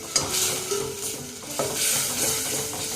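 Garlic and pepper rasam simmers in tamarind water in a pot, giving a steady close hiss and bubbling with light stirring scrapes and no talking.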